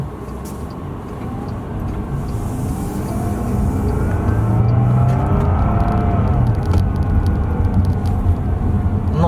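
A Bentley Flying Spur pulls away hard from first gear, its engine swelling from a low rumble into a loud, sustained roar heard from inside the cabin, rising and holding strong to the end.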